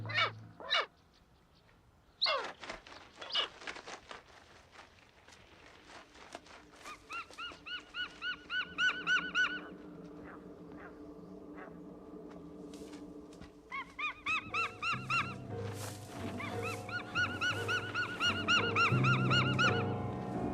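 Harsh, repeated cawing bird calls in a forest, rhythmic series of loud raucous cries that build and overlap toward the end, with no talking.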